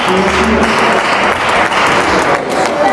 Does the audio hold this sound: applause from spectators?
yes